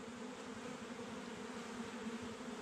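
A honeybee drone buzzes steadily when touched with a finger, a faint close continuous drone with no voices.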